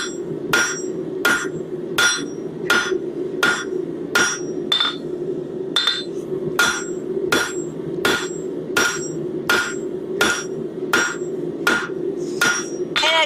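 A hot steel hook is hammered on an anvil in a steady, evenly spaced rhythm, roughly twenty sharp ringing blows over thirteen seconds. The strikes are close and loud, with no talking.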